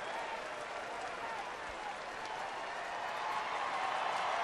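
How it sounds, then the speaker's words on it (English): A baseball stadium crowd at Dodger Stadium applauds and cheers during a Tigers game, a broad, steady roar of clapping and voices that swells slightly toward the end. "Crowd reacting on every pitch, so they're enjoying every minute of it."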